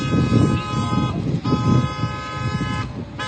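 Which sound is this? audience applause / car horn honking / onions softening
car horn honking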